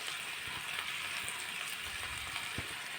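Chopped onions fry in a nonstick pan, giving a soft, even sizzle and hiss that holds steady throughout, fairly quiet and with no voices.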